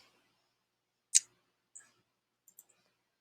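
A computer mouse gives a few faint, sharp clicks, one clearer click followed by several softer ones, spaced irregularly in a quiet room.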